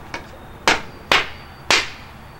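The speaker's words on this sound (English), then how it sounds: "You just kind of smack it on the ground and bust these things out of there." Piece of a wooden shelf smacked against the ground to knock out cam fittings, three sharp, loud hollow impacts after a lighter tap, spaced about half a second apart.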